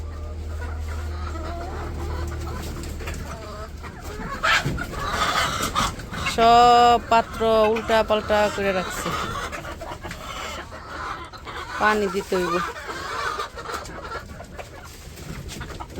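Village hens cluck intermittently around a person who talks at length nearby, with a low hum at the start and some brief louder calls midway.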